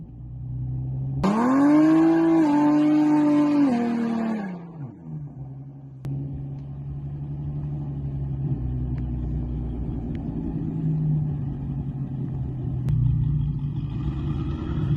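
BMW twin-turbo V8 street racing a G37: the engine revs hard and climbs loudly for a few seconds, then drops back to a steady, deep rumble as the cars keep running.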